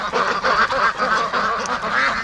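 Muscovy ducks in a pen fitted with added nesting boxes quack loudly and continuously, several birds calling over one another close by with a raucous, overlapping chatter and no pauses.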